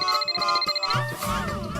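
A phone ringtone in a Hindi family sitcom home, a bright repeating electronic melody pulsing in short bursts at close range, with no talk over it.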